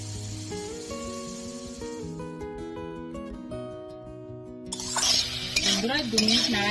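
Pineapple pieces for chutney are stirred in a pan, bringing scraping and sizzling in the second half after a stretch of sustained tonal music.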